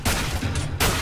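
Tech-9 pistol fire in Counter-Strike, a quick burst of gunshots over about a second, fairly faint and dense with a short gap before a final shot.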